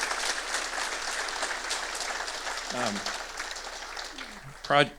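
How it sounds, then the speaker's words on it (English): Audience applause at a governor's special announcement at Pikeville Medical Center in Kentucky, a steady moderate wash of clapping through most of the stretch, with brief voices breaking in near the end. "give them a big round of applause for their contribution to all of Kentucky"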